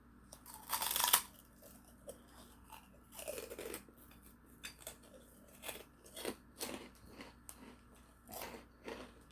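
Close crunchy biting and chewing of small crispy noodle snack bits, an initial loud crunch followed by repeated quieter chews at an irregular pace.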